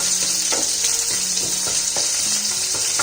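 Curry leaves fry in hot oil with a constant bright sizzle, punctuated by a few soft stirring scrapes and taps at roughly half-second intervals.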